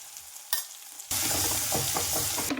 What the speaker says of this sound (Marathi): तेल गरम झाल्यानंतर जिरे टाकायचं।